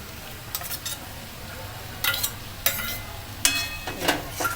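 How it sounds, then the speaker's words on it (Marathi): Prawns fry in masala in a pan with a soft background sizzle, punctuated by several sharp scraping clatters of a spoon stirring against the metal. "पहिली कोलंबी चांगली फ्राय करून घ्यायची आहे"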